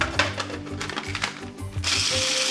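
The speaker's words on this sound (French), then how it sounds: "On va commencer par mixer d'abord les crevettes." A small food processor grinds shrimp into crumbs for a spicy fish sauce, rattling in short pulsed bursts before settling into a continuous, loud whirring run.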